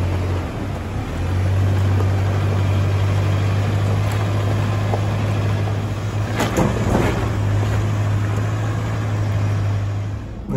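Toyota Hilux engine climbing a rocky 4WD track at Billy Goats Bluff, a steady low drone that holds loud and constant throughout, with a brief burst of clatter midway and no talk.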